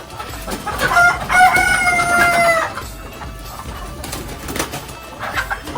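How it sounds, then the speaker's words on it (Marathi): A village country rooster crows loudly and close by in one long, drawn-out call, followed by softer clucking and scattered farmyard noise. "पहिला कोंबडा बघून घे"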